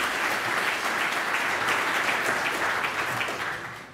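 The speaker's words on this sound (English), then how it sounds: "A huge round of applause, ladies and gents." Audience at a hemp industry summit applauding a speaker, a steady dense wash of clapping that holds throughout and fades slightly at the end, with no talk over it.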